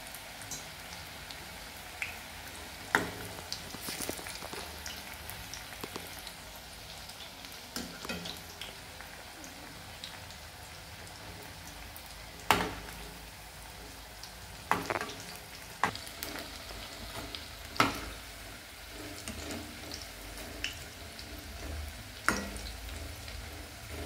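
Onion bhaji (kanda bhaji) fritters frying in hot oil, a steady soft sizzle with occasional sharper crackles and pops spread through, no talking.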